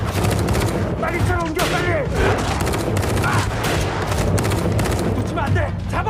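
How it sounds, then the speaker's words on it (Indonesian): Intense gunfire exchange in a film action scene, dense continuous volleys of shots and bursts with booms throughout, loud and close, while voices shout urgently over the shooting. "sehingga menyebabkan baku tembak yang sangat dahsyat"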